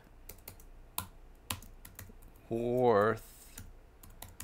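Sparse keystrokes tap on a computer keyboard, isolated clicks spaced through the moment, with a short voiced tone sounding briefly partway through.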